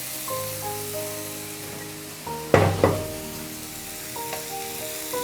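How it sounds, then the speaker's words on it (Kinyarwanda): Potatoes tumble into a pan of frying onions with a sudden burst of sizzling and clatter that then settles to a steady fry, close and fairly loud, with no voices. "Ibitunguru byanjye birahiye, ngiye gushyiramo ibirayi."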